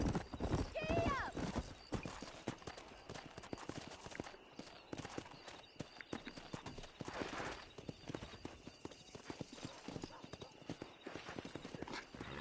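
A horse gallops in Red Dead Redemption, hooves clip-clopping in a quick steady rhythm at the start, with a neigh, under ongoing talk.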